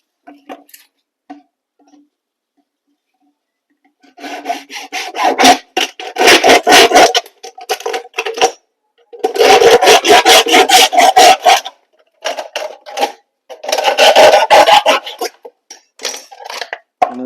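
Scissors or a blade cut through a discarded plastic bottle in bursts of close rasping, crinkling strokes with short pauses between, loud and alone without talk.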